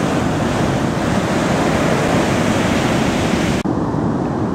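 Large ocean waves crash on a winter beach at Rio Del Mar near Capitola, California, a loud, continuous roar of surf with wind noise filling the whole clip and a brief dip near the end.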